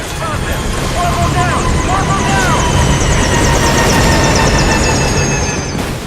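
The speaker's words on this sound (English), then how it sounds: "looks like our chopper is going down" A helicopter in the Metal Gear Solid V: Ground Zeroes video game is hit by gunfire and goes down, its loud steady rotor and engine roar filling the whole stretch, with game sound effects and voices layered over it.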